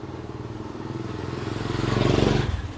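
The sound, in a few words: police motorcycle passing in street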